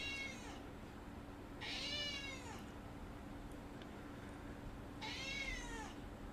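An indoor house cat gives three separate, drawn-out meows spaced a couple of seconds apart, quiet and close against a low background hum, with no one talking.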